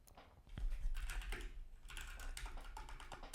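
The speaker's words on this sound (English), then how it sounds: "Damn, I'm still getting used to this keyboard." Typing on a computer keyboard, a close, quick run of irregular key clicks and taps after a short quiet start, continuing steadily with no talk.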